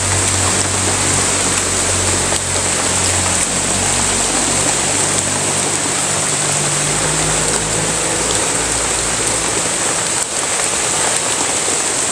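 Rain dripping at a dam, a dense, steady patter of drops on hard surfaces close by, with a constant hissy wash and a low rumble underneath, unbroken for the whole stretch.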